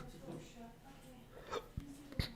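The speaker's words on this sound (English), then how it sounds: "excuse me. Hiccups." A person hiccups a few times in short, sharp jolts, close to the microphone, between bits of quiet speech and breathing.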